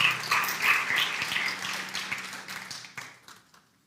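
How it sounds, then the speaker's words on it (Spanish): A church congregation gives a loud burst of applause that gradually thins out and fades to quiet within a few seconds. "¿Por qué no le damos un fuerte aplauso por esas obras que Dios continúa haciendo?"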